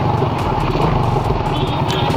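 A battery-operated motorcycle, kick-started with no battery fitted, runs with a loud, steady engine rumble and a rapid low chugging throughout, close by and with no voices.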